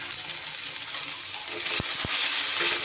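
Potato pieces fry in hot oil with a pinch of salt and turmeric, giving a loud, constant sizzle and a couple of short knocks from stirring, with no talking.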